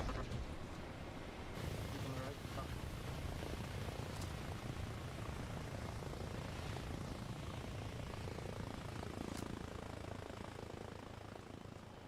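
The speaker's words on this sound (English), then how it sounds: "That's an enemy heli right next to us." An enemy helicopter passes close by in ARMA Reforger, its rotor a continuous low rumbling thrum filling the scene under scattered game noise, steady and fairly loud the whole time.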